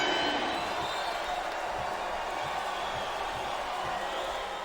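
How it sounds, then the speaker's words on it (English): An arena crowd in the wrestling video game WWE SVR 2008 roars and cheers steadily, a loud, continuous wash of voices with a few faint thuds underneath. "I love hearing the crowd come alive."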